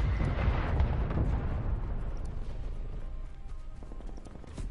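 A grenade goes off in Call of Duty: Black Ops Cold War, a loud, low rumbling blast at the start that rolls on and slowly fades over several seconds, with faint scattered clatter near the end.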